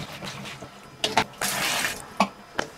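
Water of similar temperature is poured into a 35mm film developing tank for a pre-wash, coming in short splashy bursts and a sustained pour with brief gaps between them.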